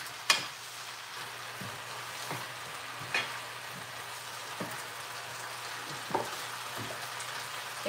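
Fish frying in hot oil gives a soft, steady sizzle and crackle, quiet and continuous, broken by a few sharp pops and spatters, with no one talking.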